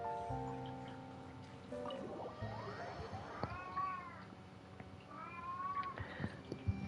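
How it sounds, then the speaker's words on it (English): A restless pet cat meows several times, with drawn-out, rising and falling cries at close range over a quiet, faintly busy background. "this kitty cat is just not calming down"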